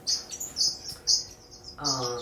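Several high, bright lavender finch chirps in short bursts, with a fuller, buzzier call near the end; fairly close and clear in an aviary against a quiet background.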